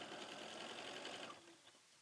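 A sewing machine stitches along two lines of quilt fabric in a fast, even mechanical whir close by, running steadily before easing off near the end, with no talking.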